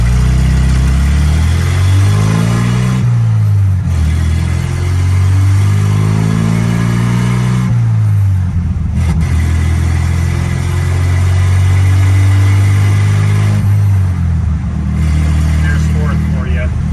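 1967 Datsun 1600 Roadster on a test drive, its engine revving up and dropping back repeatedly through gear changes, a close steady drone with pitch rises and falls, while someone talks over it.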